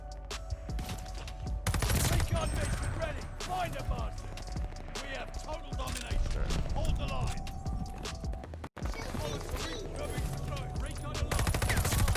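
Rapid gunfire bursts from a Call of Duty Vanguard multiplayer match, close and loud, with steady in-game action noise and a player talking over it.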